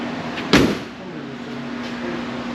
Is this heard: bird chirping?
no